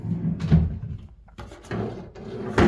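Wooden drawers in a renovated kitchen of an old Japanese house slide open and shut, giving several close rumbling glides and soft thuds over a few seconds.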